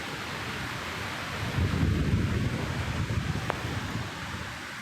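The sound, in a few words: Nor'wester storm wind and thunder in a village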